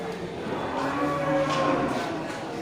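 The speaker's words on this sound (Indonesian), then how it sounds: "Ya, banyak terlihat sapi" Cattle mooing at a cattle market, one long drawn-out low moo with rising tone over a busy background murmur, fairly close and loud.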